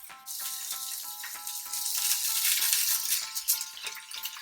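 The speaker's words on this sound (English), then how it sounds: "I'll be cooking the prawns for about 30 seconds or so till it's cooked" Prawns fry in a pan of garlic oil with chili, a bright continuous sizzle that swells louder midway, punctuated by regular soft clicks and knocks, with no talking.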